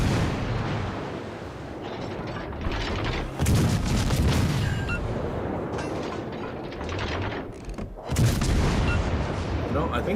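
Naval guns fire in World of Warships: Legends: two heavy, booming salvos ring out over a constant rumbling battle backdrop.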